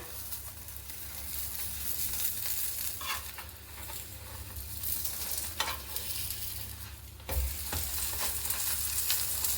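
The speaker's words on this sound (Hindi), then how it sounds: "तो चलिए अब उस साइड से भी हम पराठे को सेक लेते हैं।" Paratha roasting in ghee on a hot pan gives a steady, close sizzle and crackle throughout, with a few brief soft scrapes and one low thump near the end.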